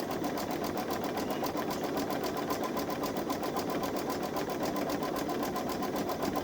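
A Babylock Solaris Vision Journey embroidery machine stitches a base for a skeleton decoration, giving a steady, even, rapid mechanical whir that runs unbroken and close throughout, with no talking.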